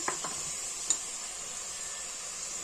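Masala paste being stirred into mutton curry in a pan, a soft wet scrape and a couple of spoon taps at the start over a steady low sizzle that carries on alone.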